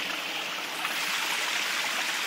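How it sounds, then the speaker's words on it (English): A creek flows in a steady, bright, close rush of water, continuous and fairly loud throughout with no voices. "This is where I am. The creek, my happy place."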